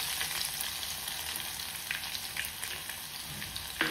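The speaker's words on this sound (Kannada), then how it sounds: "ಜೀರಿಗೆನು ಅದು ಬೇಗ ಫ್ರೈ ಆಗಬೇಕು ನೋಡಿ. ಅದಾದಮೇಲೆ ಕರಿಬೇವು, ಅದಾದಮೇಲೆ ಬೆಳ್ಳುಳ್ಳಿ ಹಾಕ್ಕೊತಾ ಇದ್ದೀನಿ." Cumin seeds, curry leaves and garlic frying in hot oil make a steady, close sizzle with crackling throughout, ending in a brief louder spatter.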